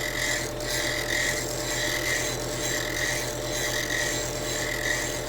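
A woodworking blade's bevel being ground on a WR diamond wheel, a continuous raspy abrasive hiss over a steady motor hum that swells slightly with each pass, close and constant.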